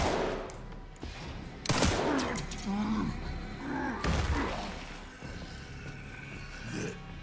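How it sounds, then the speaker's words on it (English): Gunfire from the Resident Evil Requiem video game: sharp bursts and rapid shots at close range, with heavier impacts near two and four seconds and a steady game ambience between them. "Oh, I'm so glad I missed all these shots."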